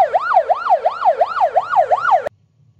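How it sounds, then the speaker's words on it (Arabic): An ambulance siren wails close and loud in a fast, regular rising-and-falling cycle, about seven sweeps in just over two seconds, then stops abruptly into near silence. "الصوت الثالث صوت سيارة إسعاف."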